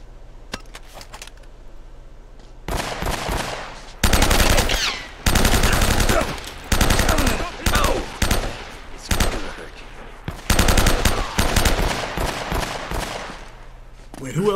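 Gunfire in Uncharted: Drake's Fortune, with several loud bursts of automatic fire and rapid single shots spread through the stretch, some close and heavy, with pauses between volleys and a voice speaking briefly amid the shooting.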